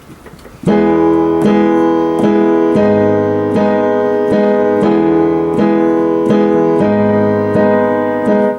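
Keyboard chords repeat in a steady, driving syncopated pattern, a pop rhythm with regular accented strikes, played alone and clearly up close.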